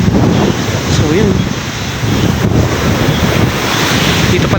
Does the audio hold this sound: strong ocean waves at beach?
yes